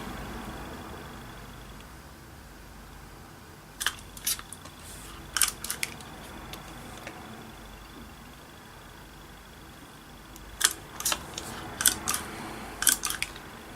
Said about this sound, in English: So I'll just cut these ones out.